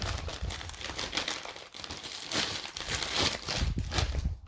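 Plastic bags crinkle and rustle close by in irregular bursts, with a few sharper crackles and brief pauses between handlings.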